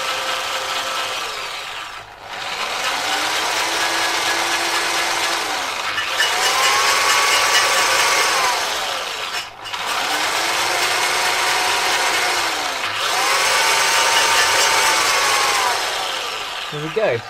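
Engine valve being lapped onto its seat with grinding paste on a 16-valve head: repeated gritty rotating scrapes in several long back-and-forth bursts, close and fairly loud, with brief pauses between.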